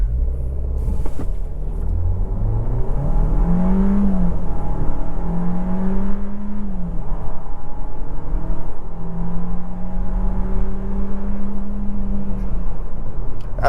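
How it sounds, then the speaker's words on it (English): A 2025 Kia Seltos SX AWD with a 1.6-liter turbo engine and 8-speed automatic accelerating hard in sport mode, heard from inside the cabin. A steady, loud engine drone rises in pitch through gear changes. "Alright, let's try a quick acceleration. Sport mode."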